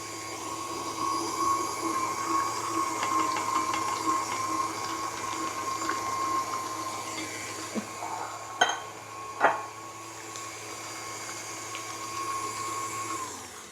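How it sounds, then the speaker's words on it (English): Electric hand mixer whirring steadily in a bowl of chicken enchilada filling with cilantro, Rotel tomatoes and green chilies, a continuous motor hum with a few clunks near the end, no talking. "I'm going to lift up the mixer and scrape down the sides of the bowl."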